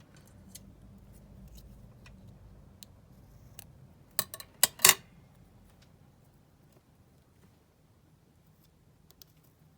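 Scissors snip a word out of cardboard packaging: a quick cluster of three or four crisp cuts near the middle, close and fairly quiet, with a low hum and a few faint ticks around them.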